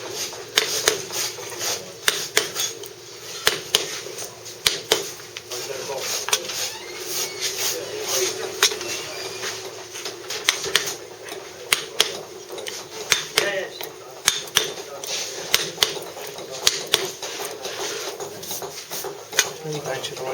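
Chisel strikes chopping down a Bath stone moulding, a steady run of short, sharp taps at close range, one after another, with a faint background murmur.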